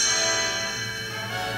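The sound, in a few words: page-turn chimes ringing on read-along record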